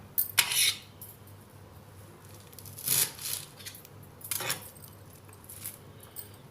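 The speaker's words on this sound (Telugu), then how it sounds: "మనం ఈ రూట్స్ కట్ చేసుకోవాలి" A kitchen knife trims the roots off a bunch of fresh fenugreek stems for dal, giving a few crisp, separate cutting clicks and snips spaced a second or so apart, close and clear against a quiet room.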